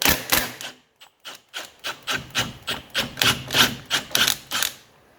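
Rapid repeated ratcheting clicks of a wrench unscrewing a bolt from the front suspension arm of a 1985 wagon, about a dozen short bursts in an even rhythm, close and sharp.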